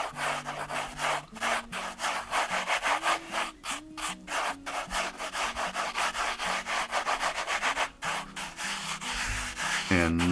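Paydirt is rubbed down by hand in a pan while panning for gold, giving repeated close scraping and gritty rubbing strokes in an uneven rhythm with no talking.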